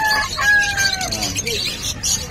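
Chickens and other fowl at the Bocaue pet market crow and cluck close by, with a rooster's call rising over busy market chatter and background voices.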